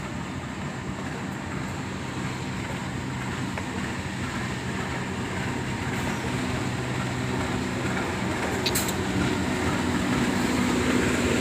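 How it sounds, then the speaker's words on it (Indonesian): The Erlangga train, hauled by locomotive CC 2018322 from the Purwokerto depot on the Surabaya Pasar Turi to Jakarta Pasar Senen run, arrives at Pekalongan station with a steady, loud rumble and a brief high squeal near the end. "Kereta Erlangga relasi Surabaya Pasar Turi, Pasar Senen Jakarta ya, tiba di stasiun Pekalongan."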